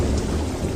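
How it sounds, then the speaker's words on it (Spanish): Rain pours steadily onto a rocky surface during a thunderstorm, a dense continuous hiss with low rumbling thunder underneath, close and fairly loud with no voices. "la lluvia comenzó a caer sobre la superficie rocosa. Y siguió lloviendo."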